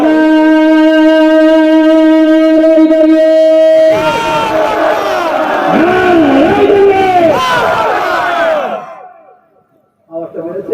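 A rally crowd roars the takbir chant, Allahu Akbar, in a loud massed shout that swells after a man's amplified call and fades out, followed by a brief return of voices.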